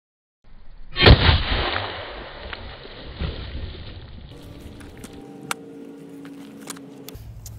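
A 5.56 round fired from a 10.5-inch pistol into a backpack armor panel, one sharp, loud report followed by a long decaying rumble and echo outdoors, then quieter clatter and faint noises.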